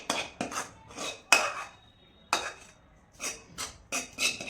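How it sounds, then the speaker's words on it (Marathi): Warm sweet potato mixture being mixed by hand into flour in a bowl, giving close, irregular scraping and clinking bursts with short pauses between them, no talking. "आता हे जे आपण मिश्रण केलेलं होतं तर ते मिक्स करूया थोडं थोडं यामध्ये"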